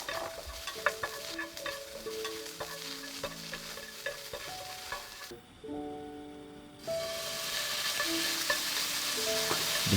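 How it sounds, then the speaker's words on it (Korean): Seasoned zucchini stir-fried in a pan with pepper for bibimbap, steady sizzling broken by scraping and clinking of a utensil against the pan, with a brief quieter pause partway through. "후추만 뿌려서 볶아줍니다."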